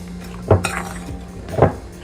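Spoon knocking against a pot while stirring Jamaican-style beef liver, two sharp metallic clinks about a second apart, close and loud over a faint low hum.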